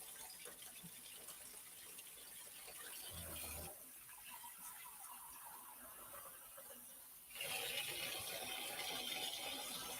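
Water running from a household tap, a steady hiss and gush that changes flow partway through and then comes back stronger, heard close and fairly quiet with no talk.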